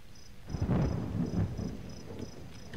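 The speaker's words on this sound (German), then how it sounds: "Es blitzt." A thunder rumble rolls through a rainy night in the horror game Cry of Fear, swelling after a quiet start and fading slowly, with a faint repeating high tone running over the whole storm.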